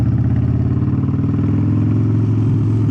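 Steady motorcycle engine drone from a bike in first gear as the rider lets off the throttle, a loud continuous mid-low rumble with a slight drop toward the end and no talk.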